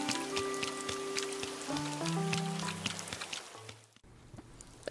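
Rain falling in the video game Animal Crossing: New Horizons, a steady soft patter of drops running throughout under gentle game music tones, close and even, with no talking.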